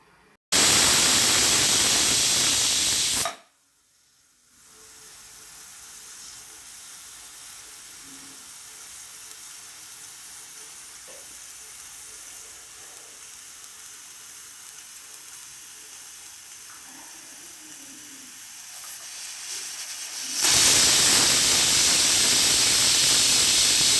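A pressure cooker on the stove cooking chicken curry lets off steam as a loud, steady hiss that cuts off, gives way to a quieter stretch of low hiss, then comes back at full strength.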